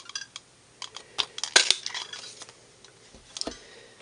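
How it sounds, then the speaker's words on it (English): A word window punch cuts a greeting out of cardstock: a handful of light, close clicks and a sharper crunching snap near the middle, with no one talking. "I'm going to use the word window to cut that out."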